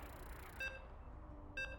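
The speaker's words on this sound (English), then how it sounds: "You can hear the beeps." Two short, bright electronic beeps about a second apart, clear over a steady background hum, sound as a video game match loads.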